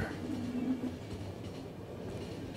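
A train running in The Final Station video game gives a low, steady rolling rumble. A brief tonal hum shows near the start, and the sound stays faint and continuous with no speech.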